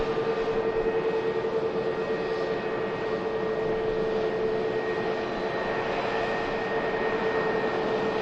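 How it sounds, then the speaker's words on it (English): A Scandinavian airliner taxis past at Manchester Airport, its engines giving a steady, broad roar with a faint whine on top that stays level and continuous throughout, with no talk. "Nice wave from the flight deck of the Scandinavian that's just taxiing past"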